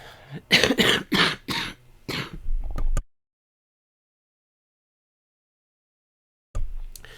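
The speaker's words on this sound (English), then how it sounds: "you don't have to listen to this cough I have" A rapid series of harsh coughs, five or six in a row, followed by silence and then a final short cough.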